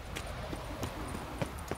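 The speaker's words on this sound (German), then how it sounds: "Pferd." Horse hooves clip-clop in Witcher 3, a few soft, scattered thuds over a low game ambience, fairly quiet and irregular rather than a steady gallop.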